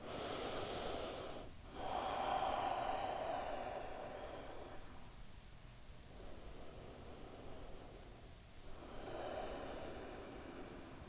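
Slow, deep breaths during a yoga stretch: three long, airy inhale and exhale cycles, close and soft against a faint hiss, with no speech.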